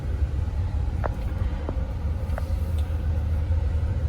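A vehicle creeping slowly through dense woods while clearing junk, a steady low engine rumble throughout with a few faint knocks and creaks above it.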